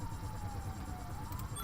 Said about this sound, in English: It's an ambulance, not a cop car.